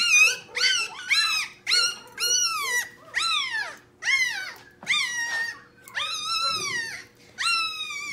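A restrained puppy cries during tail docking in a series of high, wavering yelps and whines, about a dozen in quick succession, loud and close.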